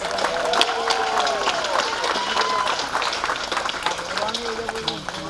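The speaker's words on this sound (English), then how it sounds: "Let's give them one more round of applause." Graduation audience applauding after a performance, dense sustained clapping from a large crowd with cheering voices mixed in throughout.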